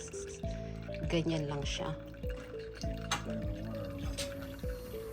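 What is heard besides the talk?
homemade iced coffee dripping through a strainer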